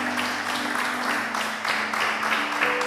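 A church congregation at a Feast of Tabernacles service claps together in a steady burst of applause. The clapping is moderately loud and fills the whole moment, with pulsing swells and a faint tone underneath.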